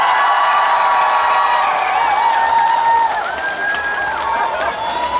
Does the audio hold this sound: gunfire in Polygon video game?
no